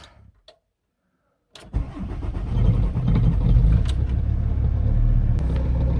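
After a brief near-silence, the diesel engine of a Volkswagen T4 van with new glow plugs cranks and catches, then settles into a steady, loud idle that continues to the end.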